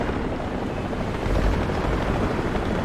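A helicopter in the War Thunder tank battle game drones as a steady, dense low rumble with rotor chop, loud and continuous throughout, with no voices over it.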